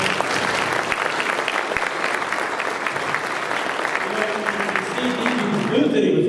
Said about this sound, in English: I just want to give them a nice round of applause